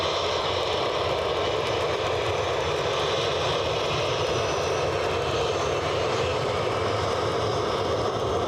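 Steady broadband roar of a United Airlines jet airliner arriving at a wet Edinburgh Airport, its engines droning continuously and fairly close, with no voices over the noise.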